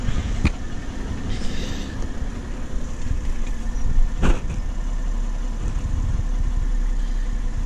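A 2020 BMW M340i G20 xDrive engine idles steadily nearby, a continuous low hum with a couple of sharp knocks and clatters from work around the car, no talk.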